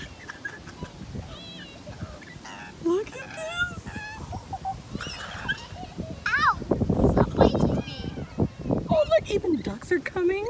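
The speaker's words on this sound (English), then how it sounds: "Even ducks are coming." Bird calls, honking and quacking sounds from a group of ducks nearby, mixed with children's voices and chatter, growing louder and busier midway.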